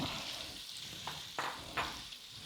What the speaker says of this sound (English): I got my butter ready, and I'll just go ahead and add the andouille sausage to it